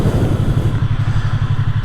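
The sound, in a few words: Yamaha R3 motorcycle engine while stopping and downshifting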